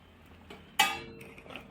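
A metal spoon clinks against a pot of mango curry with jaggery being stirred, then a lid settles on top with a sharp ringing clank, followed by smaller scrapes and a final knock.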